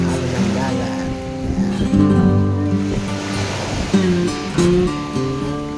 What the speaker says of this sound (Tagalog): Alon ng dagat.